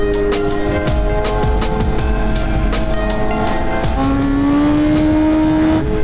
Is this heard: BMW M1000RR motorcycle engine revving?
yes